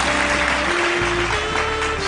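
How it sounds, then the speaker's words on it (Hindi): Audience applause at a Human Rights Day gathering, dense steady clapping filling the room with a faint tonal hum running beneath. "जोरदार तालियां दोस्तों।"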